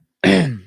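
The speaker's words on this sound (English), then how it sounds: "I have like the hiccups and I have to clear my throat." A single short, close throat clearing, a rough guttural burst lasting about half a second.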